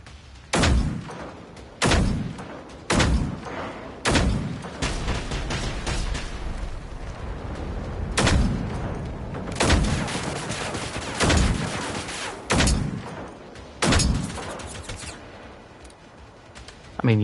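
Heavy booming shots and rocket blasts in the robot-combat game Generation Zero, landing every second or two as loud, separate impacts, with a voice talking over the fire.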